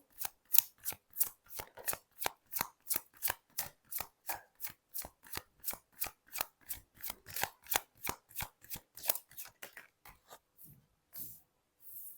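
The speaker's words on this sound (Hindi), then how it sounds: "कुछ कार्ड निकालते हैं यहाँ पर" Tarot cards shuffled by hand in quick, regular bursts, each riffle a crisp close snap repeating about every third of a second, then a few slower card draws near the end with no talk.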